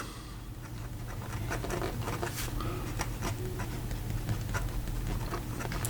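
A Karas Decograph fountain pen with a steel nib writes in reverse on paper, giving a continuous close, soft scratchy scrape with small ticking strokes and no talking.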